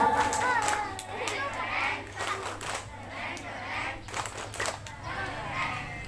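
Schoolchildren at a primary school farewell event chant and clap together in the 'tepuk keren' routine, a lively group of young voices with rhythmic bursts of hand claps.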